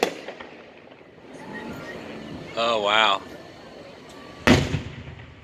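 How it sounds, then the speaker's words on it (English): Commercial fireworks at a Fourth of July show go off with a sharp, loud bang near the end, following a crackling whistle, with outdoor crowd murmur and a voice reacting throughout. "You're not gonna outstage these commercial fireworks."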